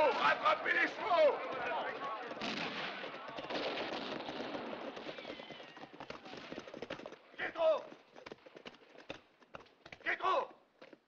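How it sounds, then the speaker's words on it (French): Horses' hooves clatter in a French action western, mixed with bursts of gunfire and shouting voices; irregular percussive hits run through the scene, loudest near the end. "Les chevaux! Rattrapez les chevaux!"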